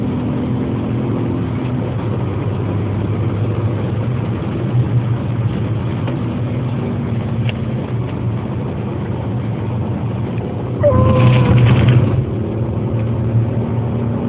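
An Aston Martin car engine idling with a steady low rumble, briefly swelling louder near the end before settling back to idle.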